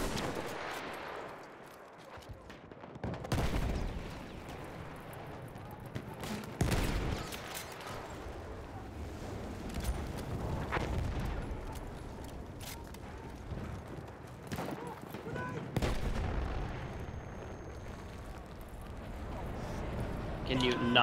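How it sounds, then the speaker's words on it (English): Battlefield 1 gunfire echoing through a noisy, busy multiplayer fight, sharp broadband cracks and bursts recurring throughout, with voices talking over it. "I'm like slowly backing up and shooting at the same time."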